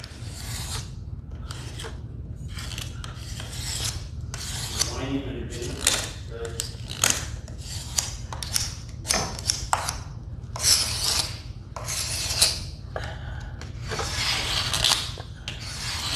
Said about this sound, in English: So just want to come along and scrape away.